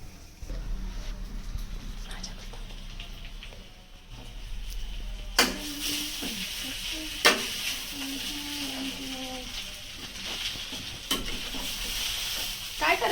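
Food is stirred with sugar in a sizzling pan, a steady frying hiss with scraping stirs and a few sharp knocks against the pan, close by and continuing for several seconds.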